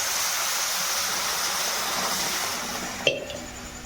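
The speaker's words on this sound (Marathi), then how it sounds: "आणि आता पाणी ओतून घ्यायचं शिजायला थोडं." Water is poured into a pot of vegetables cooking with masala, a steady rushing splash lasting about three seconds that ends in a sharp metallic clink, with no talking.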